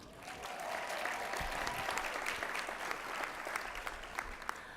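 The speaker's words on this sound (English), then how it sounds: "let's give a cheer for them as well" An audience at a general session applauds and cheers steadily for several seconds, a dense wash of clapping that swells early and holds without any speech over it.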